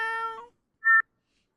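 A cat gives one short, clear meow close by, a brief call after a fading tone, with silence around it.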